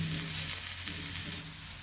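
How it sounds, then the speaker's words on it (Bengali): Bottle gourd peel frying in a pan makes a short, steady, fairly soft sizzle with a faint low hum beneath it and no voices. "লাউয়ের খোসাটা আমি সুন্দর করে ভাজা করে নিলাম"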